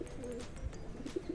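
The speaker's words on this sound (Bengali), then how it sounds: "এই হচ্ছে পায়রা স্ট্যান্ডিং" Pigeon cooing in a loft of fancy Indian breeds such as Rajasthani Kalmuhi, soft low coos recurring several times against a steady background hum, with no talking.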